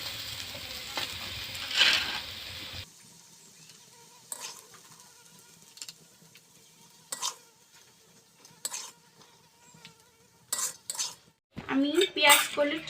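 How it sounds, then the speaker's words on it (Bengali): Curry of potato and onion shoots being served from a wok onto a plate, a series of distinct metallic clinks and scrapes of spoon against pan and plate, spaced out over near silence. "একটা প্লেটে সার্ভ করে নেব।"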